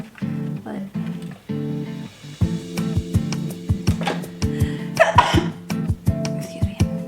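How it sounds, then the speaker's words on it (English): A single sneeze from a person indoors during beginner seed starting, standing out over a steady background of sustained tones, followed by short breathy bursts. "I want to sneeze, but"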